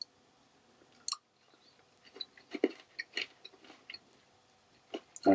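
Crunchy chewing and biting of an Australian chocolate candy bar, darker than a Crunchie, heard close up as irregular soft crackles and bites with a louder crunch near the end.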